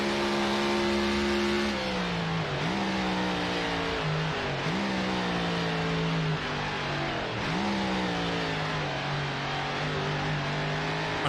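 Prewar 1930s race cars in Assetto Corsa drone steadily with a loud, continuous engine note that rises and dips as gears shift, several sharp throttle lifts breaking the rev line, with no talk over it.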